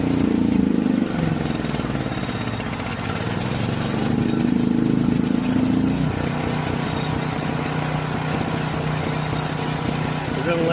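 A John Deere 6200 generator engine runs steadily after carburetor work, a loud continuous close mechanical drone with a rough low hum that shifts slightly in pitch early on.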